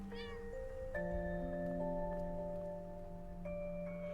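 A cat meowing in the game Impostor Factory, a short rising meow at the start with soft background music tones carrying on after it, fairly quiet.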